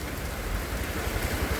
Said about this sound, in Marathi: जोरात पाऊस चालू झाला मस्त पैकी.